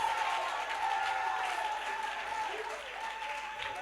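A worship congregation claps in a sustained, crowd-wide burst of applause that stays even throughout, with a steady held musical tone running underneath.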